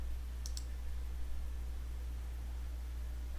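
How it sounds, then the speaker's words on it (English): A pair of quick, faint computer mouse clicks early on, set over a steady low hum and hiss with no voice. "Click the 2nd Street corridor"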